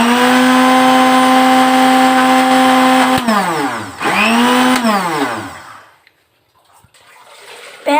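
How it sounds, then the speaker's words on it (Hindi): Spinach ground in a mixer grinder, a loud close whirring motor that runs steadily, dips and surges in pitch midway, then winds down into near silence. "पालक को हम ग्राइंड करके रख देते हैं"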